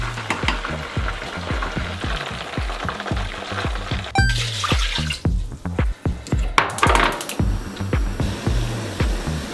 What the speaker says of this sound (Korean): 보글보글 조금씩 끓고 있어요.